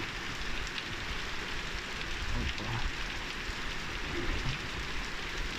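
Heavy rain pours down steadily on a farm during sunflower harvest season, a dense continuous hiss that fills the scene without letup.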